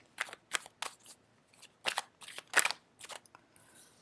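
A quick run of crisp, papery riffling bursts as a deck of cards is shuffled, one after another in a loose rhythm, close up with no talking.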